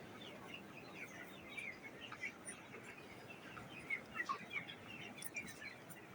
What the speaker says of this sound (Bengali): মুরগি পাঁচ হাজার আছে এখানের মধ্যে দেখেন